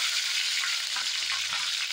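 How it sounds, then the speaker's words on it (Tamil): Chopped onions sizzle and crackle steadily in hot oil for potato salna, a close, continuous frying hiss with faint stirring. "இது போட்டு நல்லா வறுத்துக்கலாம்."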